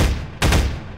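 A single loud shotgun blast in GMod, a sharp broadband burst that cuts in over ongoing background game noise and rings out before decaying.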